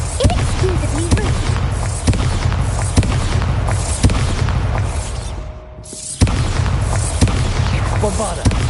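Repeated Bombarda blasting-spell explosions in Hogwarts Legacy, a steady run of loud booming blasts about once a second, each with a sharp crack and rumbling tail, briefly pausing before resuming.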